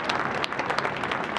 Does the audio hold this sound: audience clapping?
yes